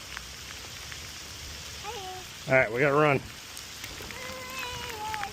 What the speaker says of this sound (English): It's a good old rain shower right there.